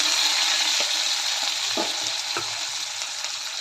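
Onion, curry leaves and tomato sizzle steadily in hot oil in a pan, a dense continuous frying hiss with a few soft stirring scrapes, close and fairly loud throughout.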